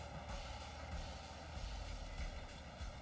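A helicopter in the video game Marvel Ultimate Alliance drones with a faint, steady rotor thrum and pulsing beat, heard alone for a few seconds.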